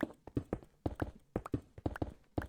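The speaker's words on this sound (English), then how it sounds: "Slowly trotting along a cobblestone street." Rhythmic clip-clop of horse hooves on cobblestones, a steady walking gait with clear paired knocks, close and moderately loud.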